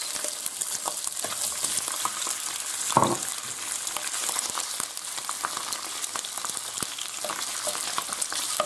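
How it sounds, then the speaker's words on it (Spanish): Chicken pieces and sausages fry in hot oil in a pan, a steady bright crackling sizzle running throughout, with a brief stirring clatter near the middle. "Ahora lo que hacemos es freír el pollo y las salchichas."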